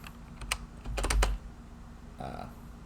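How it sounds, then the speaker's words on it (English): Quick bursts of typing on a computer keyboard during a lab session, a few clustered keystroke clicks then a short pause and another brief run, close and fairly quiet. "I'm going to quickly type all that as well"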